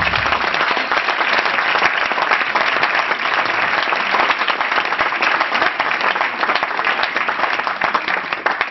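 An audience at a film premiere screening bursts into steady, dense applause that stays loud and continuous throughout, with no break.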